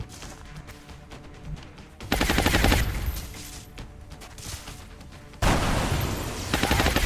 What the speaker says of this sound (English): Let's let you shoot with an SMG.